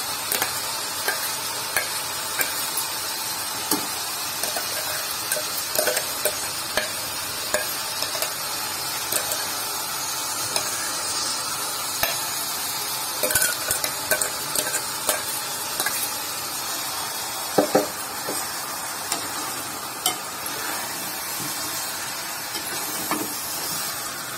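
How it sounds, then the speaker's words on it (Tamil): Chicken and ground masala frying in a pan for a honey chicken sukka fry, a continuous sizzle with scraping stirring strokes and occasional ladle taps throughout. "அரைச்சி வச்ச அந்த மசாலாவை போடணும்."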